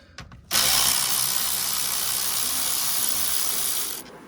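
A ratchet loosens a nut behind the dashboard of a 2014 Cadillac ATS, giving a fast continuous close clicking whir for about three and a half seconds after a few faint clicks.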